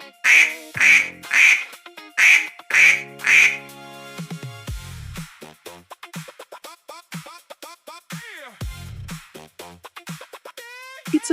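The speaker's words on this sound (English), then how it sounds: "It's a duck. Quack, quack." Duck quacking in a quick series of about six loud, close quacks, followed by a looser run of varied, softer bird calls.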